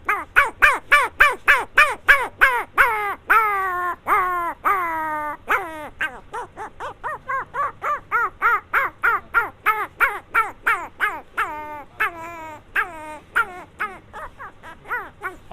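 A man mimics the rapid yipping bark of a very small puppy, a long run of sharp, high, evenly spaced yaps that are loud and close, with no other sound around them.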